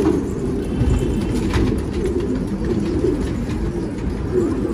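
Racing pigeons arriving at their loft and cooing: soft, low, continuous cooing from several birds close by, with faint wing flutters and a light outdoor background.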